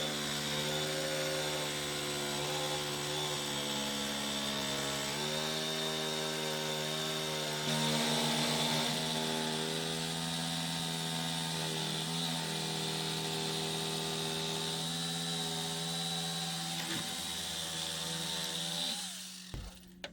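A power tool cuts wood outdoors for a simple router table, giving a loud, steady, whining drone that shifts pitch slightly as it bites in, running about nineteen seconds before it winds down and stops.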